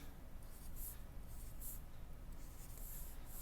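Pen strokes on a drawing tablet while writing out words in Toon Boom Harmony, a faint continuous scratching with short, light bursts of stroke noise.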